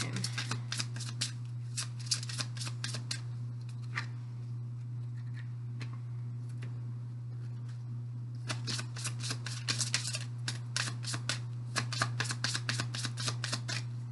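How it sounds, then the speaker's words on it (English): A deck of cards is shuffled repeatedly, quick riffling bursts of crisp flutters, over a low steady hum, close and fairly quiet. "So let's go ahead and shuffle"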